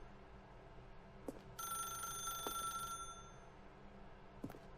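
A telephone rings in the office of the video game The Stanley Parable: Ultra Deluxe, a single sustained bright electronic ring of about one and a half seconds, fairly clear over a low ambient hum with a few soft footsteps or clicks around it.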